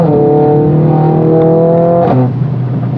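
A Mercedes-AMG A 45 S engine, rated 525 PS, revving loud and close with a steady held tone that drops sharply near the end, alone without talking.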